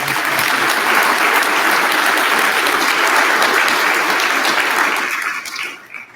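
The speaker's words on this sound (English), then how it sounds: "how about a round of applause?" A military audience at an Air Force cyber change-of-command ceremony applauds loudly and continuously, the clapping holding steady for about five seconds before thinning out and fading.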